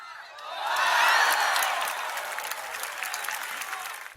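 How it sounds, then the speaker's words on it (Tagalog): Crowd at a women's tennis quarterfinal of the Philippine Women's Open roaring and cheering for Alex Eala, a loud sustained swell of voices and applause that builds, peaks, then settles into steady clapping. "Panay ang hiyawan ng fans ng pangalan ni Alex"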